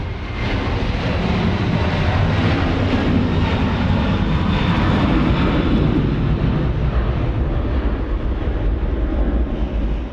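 A Qantas airliner lands on runway 34 left at Sydney Airport, heard as a loud, continuous broadband engine roar that holds steady for the full stretch, with no talk over it.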